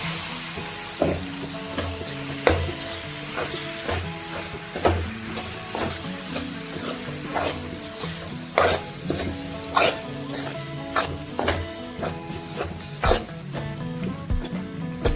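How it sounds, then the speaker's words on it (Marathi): Vegetable masala pasta stir-fried in an oiled pan, a gentle sizzle running underneath while a spatula scrapes and taps the pan in repeated, fairly regular close strokes. "आता आपण याच्यामध्ये पास्ता टाकून घेऊया."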